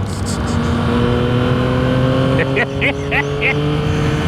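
A Yamaha MT-09 motorcycle engine revs up and climbs in pitch, with a steady motor drone, rising whines, and speech-like bursts partway through.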